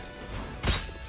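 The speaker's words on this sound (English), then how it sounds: "Careful with that explosion." An explosion in the Rogue Legacy 2 video game, a short muffled crash that swells briefly over steady game background sound, with no talking.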